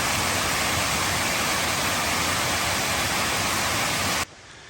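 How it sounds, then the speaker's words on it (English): Lucifer's Falls in Robert H. Treman State Park sends up a steady, loud rush of falling water that fills the whole scene and then drops away abruptly near the end. "we got another waterfall here"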